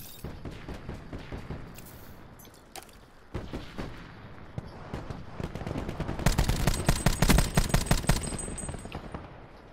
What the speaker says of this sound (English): Someone's shooting from the office.